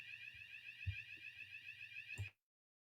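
A fire alarm sounds a continuous high electronic tone, loud and near, with a few low thumps beneath before it cuts off abruptly.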